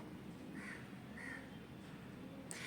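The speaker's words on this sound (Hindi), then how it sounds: "कौवा बोल रहा है, काव काव कौवा" A crow caws a few times at a steady pace, somewhat distant, over a constant background hiss.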